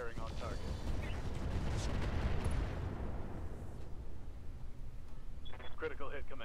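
Mech weapons fire on a target in the video game Roguetech, a loud, sustained roar of heavy gunfire and explosions that fades toward the end as a voice speaks briefly over it.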